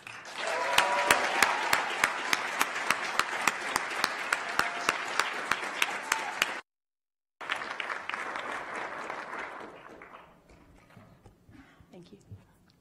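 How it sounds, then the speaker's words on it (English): Sustained applause from a large audience at a university graduation ceremony in Kigali, with dense rhythmic clapping that breaks off briefly, resumes and then fades away. "Let's give a warm round of applause for Miss Jessica Emma Roussos."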